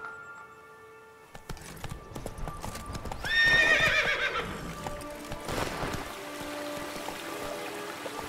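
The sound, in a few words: horse Roach galloping in video game The Witcher 3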